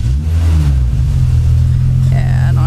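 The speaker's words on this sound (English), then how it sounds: "I'm just gonna start the car up." A MINI Cooper R53 engine cranks and fires up close by, surging into a brief rev before settling into a rough idle, with a faint high whine near the end and possible low voices in the background.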